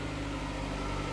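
Jeep Compass Trailhawk with a 2.4-liter direct-injection inline four-cylinder idling, a steady low hum that stays even and close for just over a second.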